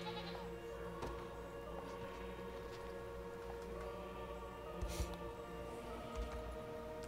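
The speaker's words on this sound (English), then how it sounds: "At least some goats over here." Goats bleat faintly in the video game Unicorn Overlord, a few short calls scattered over a steady ambient game background.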